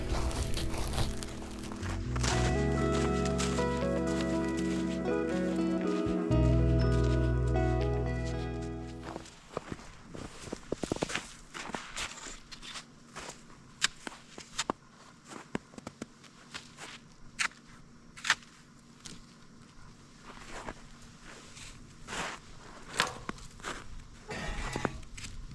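Boots crunch through snow at a winter campsite, a quick, uneven run of close steps with crinkling, preceded by a long stretch of steady humming drone, with no voices.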